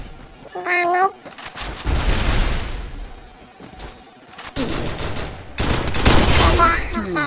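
Gunfire in a mobile shooter game: bursts of rapid shots and loud blasts come and go, mixed with game effects and a high chirping cry near the start, and a voice talks at times.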